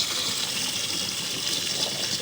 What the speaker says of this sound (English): I'm pouring it into the tank as well